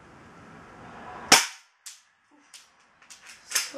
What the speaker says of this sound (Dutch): Ik ga 3 schoten afvuren.